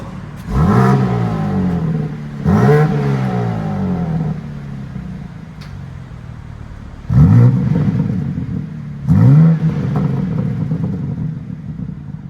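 A BMW G80 M3 engine revs hard inside a shop, with four sharp, loud bursts that climb and fall, separated by a steady idle rumble. No one speaks.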